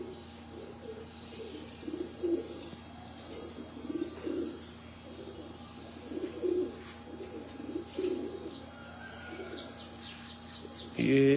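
Breeder pigeons coo in a loft, soft repeated throaty calls rising and falling in bursts every couple of seconds, nearby and moderately quiet, over a low steady hum, with a louder rustle at the end.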